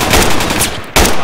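Gunfire in the tactical military shooter game Project Reality, dense loud shots filling the moment with a sharp fresh burst near the end.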